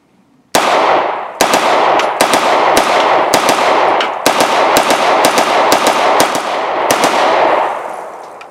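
A SIG MPX Copperhead braced pistol firing: a rapid series of about a dozen sharp, loud shots with ringing echoes in between, close and with no talking.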